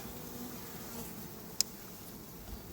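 A soft, steady buzz of bees fills the air, with a brief sharp click partway through.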